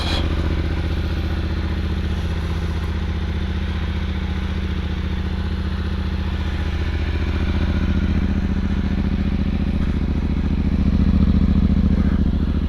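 A Yamaha Ténéré 700 motorcycle engine idles with a steady, low throaty rumble close by, swelling slightly louder near the end.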